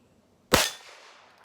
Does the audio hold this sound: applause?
no